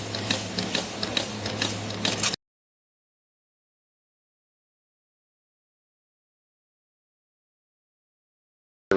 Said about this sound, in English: I'm going to pump this until fluid comes out of it.